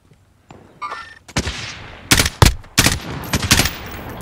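Bursts of gunfire in a Warzone battle royale match crack out in quick clusters, some single shots and some rapid volleys, loud and close with brief pauses between.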